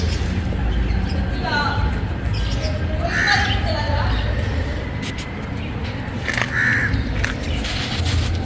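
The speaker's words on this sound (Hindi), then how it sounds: "आज ये वाली चिड़िया भी खाने आई है।" Birds call outdoors by a neighbourhood lane, with a couple of distinct crow-like caws rising over a constant bed of outdoor background noise.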